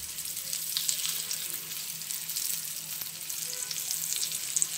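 Thick eggplant slices, coated the way fish would be, sizzle in oil on a flat griddle. The frying crackle is faint and steady throughout, with no voices.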